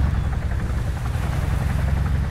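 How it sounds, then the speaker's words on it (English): A Chinook helicopter arriving in Arma 3, a loud steady low rotor drone and engine roar filling the moment with no talk. "I think this is our helicopter coming in."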